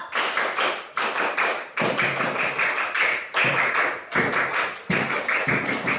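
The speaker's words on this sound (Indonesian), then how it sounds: "Tepuk pramuka" A class of schoolchildren performs the tepuk pramuka scout clap, several crisp rounds of rhythmic clapping in repeated groups, loud and close with brief pauses between sets.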